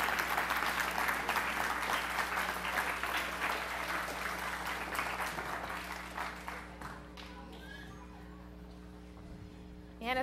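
A crowd gives a standing ovation to the outgoing junior royalty at the 2010 Hopkins Raspberry Festival coronation. The sustained applause is loud at first and then fades over several seconds to a quiet hum.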